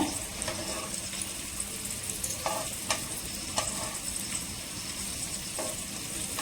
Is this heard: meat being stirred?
yes